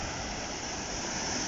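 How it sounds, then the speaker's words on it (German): Big waves breaking on the Black Sea shore near Nessebar under strong current: a steady, dense roar of surf filling the clip, loud and continuous with no distinct breaks. "Großer, harter Wellengang heute."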